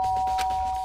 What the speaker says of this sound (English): Press the doorbell.